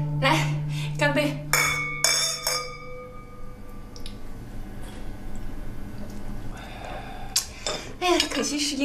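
Glasses clink together in a toast at a home-cooked meal. A few bright, ringing clinks come early, followed by quieter clatter of dishes and cutlery.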